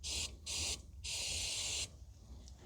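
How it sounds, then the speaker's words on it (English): Three hissing bursts from an aerosol can of penetrating oil sprayed on a 2015 Toyota Sienna's exhaust, two short blasts followed by a longer one, close up with a faint low hum underneath. "So I'm just gonna spray some penetrating oil now"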